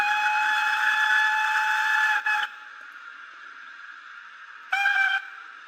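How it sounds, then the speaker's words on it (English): A model railway locomotive's steam whistle blows a long shrill chord, then a short toot after a pause, with a soft mechanical hum underneath. "The steam whistle, one of them, very nice."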